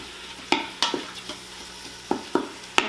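Garlic sizzles softly in a pan while a utensil stirs it, giving several sharp scraping clacks in an irregular rhythm over a low frying hiss.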